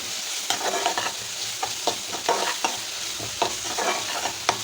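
Onions sizzle in a hot pan while a spatula scrapes and stirs repeatedly, giving a series of rhythmic scraping strokes over steady frying.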